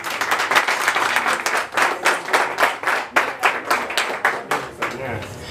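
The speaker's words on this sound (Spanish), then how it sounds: "Un aplauso bien fuerte," Guests clap loudly in rhythm at a quinceañera celebration with mariachi, close and energetic hand claps pulsing steadily, some voices mixed in.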